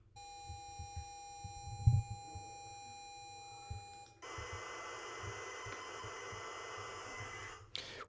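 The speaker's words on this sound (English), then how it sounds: "when you take a wave file of an APPLE-1 program, which sounds like this" An Apple-1 program stored as cassette tape audio plays as steady, piercing data tones, first a clean high pitched carrier, then a harsher dense hiss-like stretch, with soft bumps underneath and no talk.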